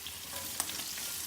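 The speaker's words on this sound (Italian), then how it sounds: "a questo punto andiamo ad aggiungere le nostre punte di asparago" Asparagus tips drop into a hot pan of sauce and sizzle in a steady, faint frying crackle, with a small clink or stir sound in the middle and no one talking.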